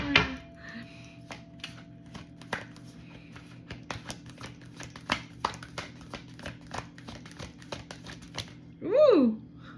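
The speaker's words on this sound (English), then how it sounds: "you saw me shuffle" A deck of playing cards is handled and shuffled with rapid crisp riffling snaps and taps, close and steady for most of the stretch, before a brief excited vocal exclamation near the end.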